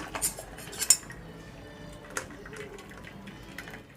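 Boiled young jackfruit is tipped into a colander to drain, with metal pots and utensils clattering in a few sharp clanks near the start and an isolated knock later, over a low, steady background.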